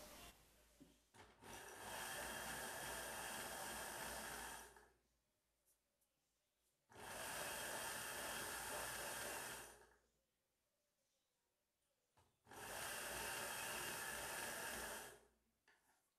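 A sewing machine stitches dress fabric for a top made from a dupatta, running in three sustained whirring bursts of a few seconds each, with quiet pauses between them.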